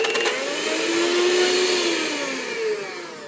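A whining electric mixer runs in peanut butter bread batter, its motor pitch wavering and sagging as it labours, with a brief rattle at the start and a steady loud hum throughout.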